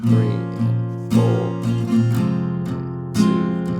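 Acoustic guitar strumming the chords of a song in 5/4 time, with several clear, ringing strummed chords at an even pace, close up and with no talking.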